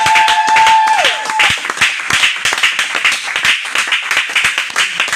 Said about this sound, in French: Acclamons le Seigneur. Donnons-lui ça, l'acclamation.